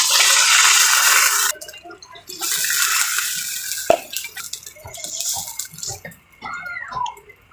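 Broth is poured into a cooking pot, heard up close as a loud, gushing splash that stops abruptly, then trickling drips and clinks of the pot before a second softer pour.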